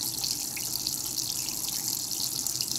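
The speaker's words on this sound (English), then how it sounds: "Hear the water going through the kettle." Tap water runs steadily into a kettle, a continuous bright hiss and splash that stays even and close, with no talking.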